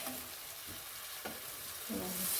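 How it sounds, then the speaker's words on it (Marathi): Steamed peas dropped into sizzling masala for paneer matar, a soft steady frying hiss with a few stirring scrapes, fairly quiet and close, no talking. "मटार सगळे भाजीत आपण घालून घेऊया"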